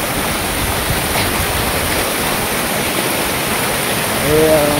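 A small stream rushes over rocks in dense forest on the trek from Panhala fort to Pavankhind, a steady broadband wash of flowing water throughout, loud and continuous.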